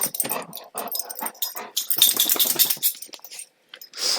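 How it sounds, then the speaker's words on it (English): A happy dog close by, giving short panting breaths and small vocal noises in uneven bursts, with a brief quiet gap before a final snuffle. "My dog just walked in."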